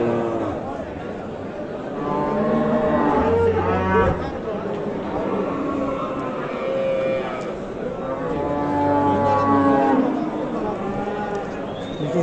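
A cow at the Saturday livestock market in Gulakandoz gives two long, loud moos a few seconds apart, with people talking and market chatter around them.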